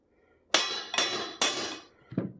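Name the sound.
hammer and punch tapping out a bushing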